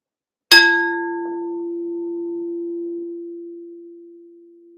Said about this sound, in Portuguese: O sino cria uma energia positiva e afasta tudo que é negativo da nossa jornada.